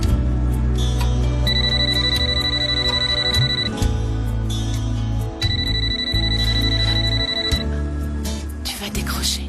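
A telephone rings in repeated bursts, with a bright steady tone pattern running over music and background sound in a dramatic indoor scene.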